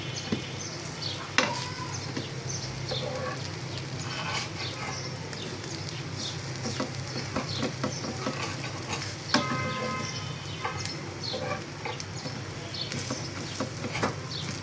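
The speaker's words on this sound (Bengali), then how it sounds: "ঝাল ঝাল করে পেঁয়াজ মরিচ দিয়ে ভেজে নিচ্ছি আর কি" Onions and chillies fry in a frying pan with a steady, close crackling sizzle, broken by occasional clicks and scrapes of stirring.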